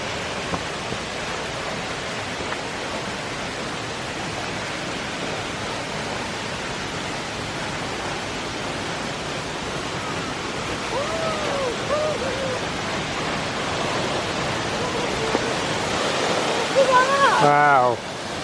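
Steady, dense roar of a large free-flowing waterfall on a hiking trail in Valencia, Spain, heard continuously and fairly loud, with faint voices near the end.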